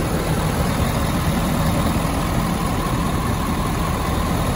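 2017 Ford F-250 Super Duty 4x4 with a 6.7-liter Power Stroke diesel engine running, giving a steady, even idle rumble that is loud and close throughout with no talking.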